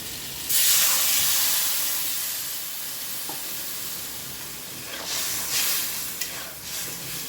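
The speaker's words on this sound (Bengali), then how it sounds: "ঢাকা দিয়ে এবার কচুটা একটু সেদ্ধ হতে দেবো" Taro pieces cook in water under a lid for a Bengali shol fish curry, giving a soft steady hiss with louder bursts of steamy sizzling that swell and fade.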